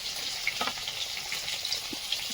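Fish pieces go into a simmering cauliflower fish curry, giving a soft continuous sizzle and bubbling hiss, close and moderately quiet, with no talking.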